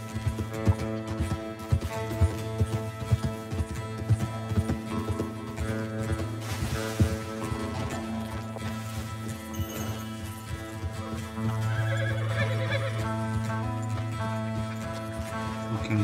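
In Red Dead Redemption 2, rhythmic hooves clip-clop steadily over game music, with a horse's whinny partway through and the hoofbeats continuing.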